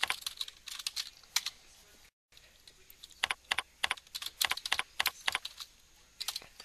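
Someone typing on a computer keyboard while filling in a store's record details, close clicky keystrokes in quick irregular bursts with a brief gap of silence.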